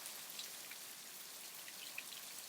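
Rain falls as a soft, steady hiss with scattered drops, quiet and continuous with no voices.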